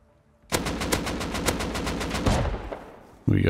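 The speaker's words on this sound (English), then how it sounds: "I think I heard a shotgun trap go off." A shotgun trap in the game Rust fires a rapid burst of loud, evenly spaced blasts for about two seconds before trailing off, with a fresh loud noise cutting in at the end.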